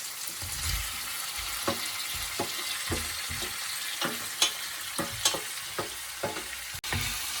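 Cleaned goat intestine frying in a pan with garlic and ginger, a steady sizzle broken by repeated clacks and scrapes of stirring, close and without talk.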